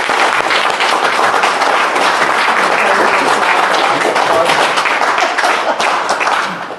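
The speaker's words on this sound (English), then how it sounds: "Round of applause." An audience applauds loudly and steadily, dense clapping filling the whole stretch without letting up and tapering slightly at the very end.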